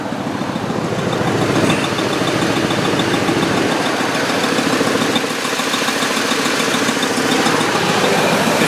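A 2000 Ford F-150 XL extended-cab pickup with a 4.6 liter V8 idling close by, a steady, even rumble with a slight rough rhythm throughout and no talking.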